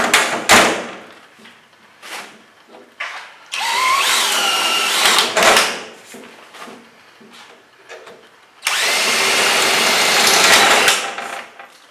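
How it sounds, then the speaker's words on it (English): A power drill bores out rivets holding down a metal top. Two long whirring bursts rise and wobble in pitch, with scattered clicks, knocks and handling noises between them. "Knock the mandrel back out so they drill real quick"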